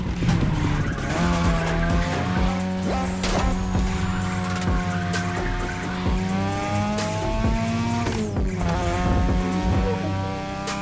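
Sustained tire squeal and skidding from a car drifting through mountain turns in The Crew Motorfest, layered over a loud revving engine that shifts pitch as the car slides, with no voices.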